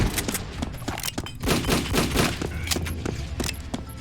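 A chaingunner enemy fires in the DOOMBRINGER shooter game, rapid bursts of gunfire rattling in quick succession at moderate loudness, with some thuds mixed in.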